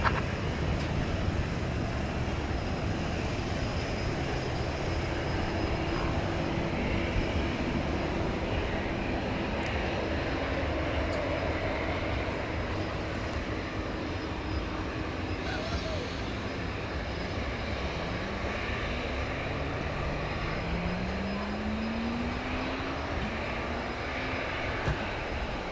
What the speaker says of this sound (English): we're about to see that Delta flight go out to Los Angeles, the Airbus A319